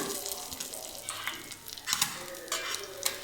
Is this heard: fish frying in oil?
yes